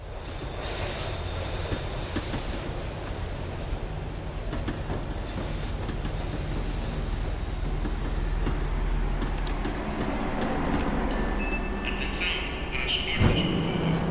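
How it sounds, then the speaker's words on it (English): A tram in the video game Max Payne 3 rumbles and clatters along the rails while slowing, with high metallic wheel squeals and a steady low roar throughout, building to a louder squeal and jolt near the end. "The tram was slowing down, and I'd only just gotten on board."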